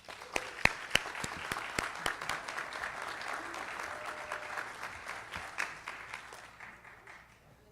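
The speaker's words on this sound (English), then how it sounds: "If you'll give them a round of applause." Applause for a graduating physical therapist assistant class at a pinning ceremony: a modest crowd claps steadily, with a few sharp nearby claps standing out early before the sound thins and fades.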